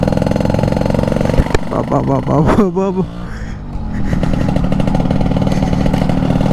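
A 30-year-old restored Yamaha RX100 motorcycle engine runs close by with a loud two-stroke burble, briefly revved with rising and falling pitch, then settles back to a steady idle while someone speaks over it.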